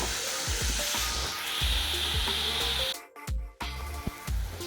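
Onions sauté with salt in a hot pan for a crab roast, giving a steady, fairly loud hiss with soft stirring scrapes and a brief dip partway through before the sizzle resumes.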